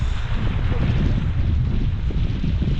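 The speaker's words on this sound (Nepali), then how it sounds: "जस्तै चिसो हावा चल्यो" Cold wind blowing at Mini Lake in Manang: a loud, constant low roar buffets the microphone throughout, with gusty rumbling and no clear voices.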